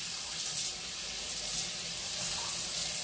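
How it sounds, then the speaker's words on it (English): Greens are rinsed under a running kitchen sink tap. The water flows in a constant, close splashing rush, broken by slight shifts where the leaves move through the stream. "I'm going to take 2 big handfuls of greens and I'm going to rinse them off in this sink over here."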